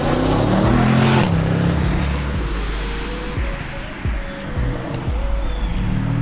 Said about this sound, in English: I absolutely love this engine